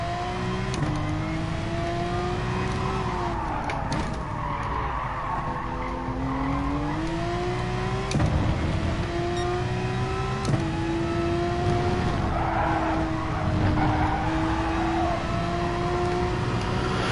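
GT3 race cars trade paint in close sim racing, engines whining and shifting pitch as tires squeal and skid, with a couple of sharp contact knocks cutting through the steady engine drone.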